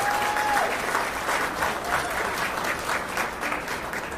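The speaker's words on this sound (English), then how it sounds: "could you give her another round of applause?" Audience applause at a business roundtable holiday awards reception: sustained clapping from a sizable crowd, steady and fairly close, with a brief tonal whistle-like sound at the start.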